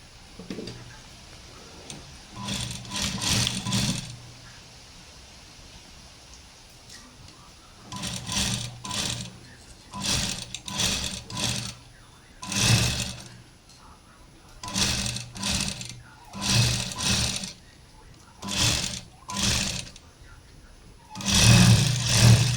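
A sewing machine stitches a lined kurti in repeated short bursts of rapid mechanical ticking, separated by brief pauses, fairly close and clear, with no talk over the stitching.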